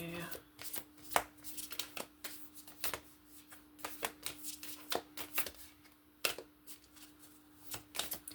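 Tarot cards shuffled by hand in a run of crisp, irregular riffling bursts with soft flicks between, near and fairly quiet, over a faint steady hum; a person talks intermittently.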